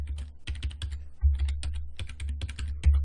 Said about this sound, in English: I'm going to type in that user password